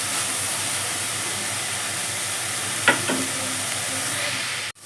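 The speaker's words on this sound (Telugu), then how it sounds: "ఫ్రెష్ కరివేపాకు ఒక 2 రెమ్మలు వేస్తున్నా. ఇది కూడా మంచిగా మనకి ఫ్రై అయిపోతుంది." Fresh curry leaves frying in hot oil with onions, a steady close hiss of sizzling oil with a brief sharper crackle and stir partway through.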